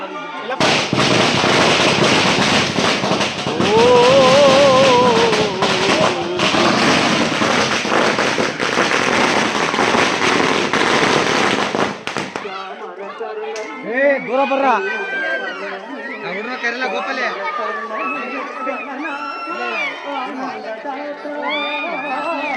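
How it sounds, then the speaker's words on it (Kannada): Loud, continuous crackling of firecrackers bursting close by at a temple after a puja for several seconds, then stopping abruptly, leaving a crowd chattering and voices calling out. "ಪಟಾಕಿ ರೆಡಿ ಇದೆ ಇವಾಗ"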